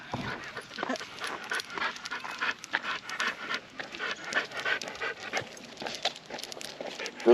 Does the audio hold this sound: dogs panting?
yes